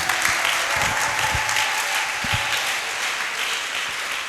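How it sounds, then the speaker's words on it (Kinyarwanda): A church congregation claps and applauds for Jesus during a testimony, a loud, sustained burst of many hands clapping together that fills the whole stretch with a few sharper individual claps standing out. "Nera Yesu amashyi ntacyo bitwaye."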